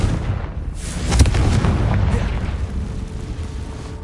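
A Confringo blasting spell explodes in Hogwarts Legacy, a deep booming blast with a rumbling tail that lingers loud through the whole stretch.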